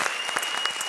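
Studio audience applause for comedy duo Krushna and Sudesh on a Kapil Sharma comedy show: dense, steady clapping filling the whole moment, close and loud with no voices over it.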